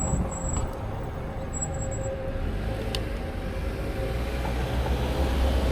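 A train rumbles past a railroad crossing, a steady broad roar close by with brief high squeals and a faint tone early on, heard on a commute with no talking.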